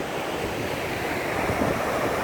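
Rushing water from a river flows in a steady, dense wash of noise, loud and close, with no voices.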